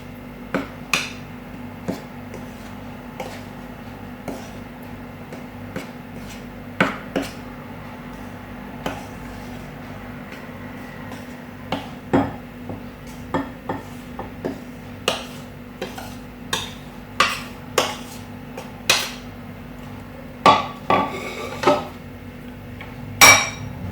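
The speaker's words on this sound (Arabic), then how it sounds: "وتنخلطوا المكونات اللي تيكونوا ناشفين بوحديتهم" Dry muffin ingredients being mixed in a bowl for chocolate muffins, with a steady run of soft scraping and stirring and sharp utensil clinks and taps against the bowl, close and fairly loud, no voices.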